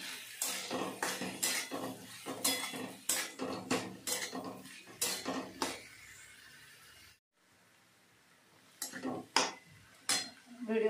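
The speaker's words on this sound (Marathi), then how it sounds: "आणि बटाटा, तेलात छान परतून घ्यायच्या आहेत भाज्या।" Vegetables and potato for Maharashtrian bhogichi bhaji are sautéed in oil, with rapid metal spoon scrapes and clinks against the pot in bursts. A short quiet gap is followed by a few more stirs.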